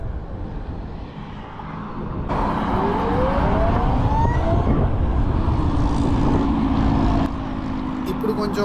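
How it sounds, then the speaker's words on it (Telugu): An Ather 450X electric scooter on the move gives off an electronic motor whine that sweeps upward in pitch, carried over steady heavy wind rush and road noise. "ఆ ఎలక్ట్రానిక్ సౌండ్, ఆ సౌండ్ అయితే చాలా బాగుంది బండి నడిపేటప్పుడు నాకైతే."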